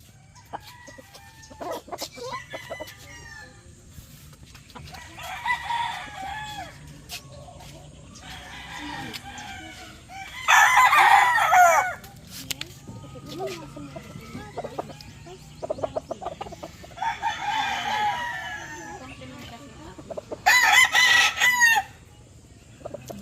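Young roosters (stags) on a range farm crow repeatedly, with several loud, near crows spaced several seconds apart and softer clucking and distant crowing in between, over a low steady background hum.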